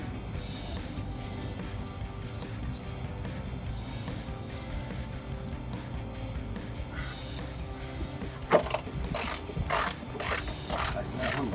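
Ratcheting screwdriver or wrench clicks while screws are tightened during a headlight install on a 2007-2013 Chevrolet Silverado 1500, a steady run of small mechanical clicks close by with a few sharper taps near the end.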